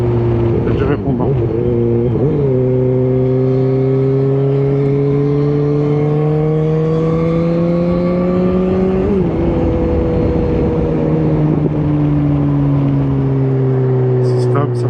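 A BMW S1000R motorcycle engine under way, heard up close and loud with a strong steady drone. Its pitch climbs smoothly, dips briefly at shifts near the start and middle, and keeps pulling, with a rider's voice at times.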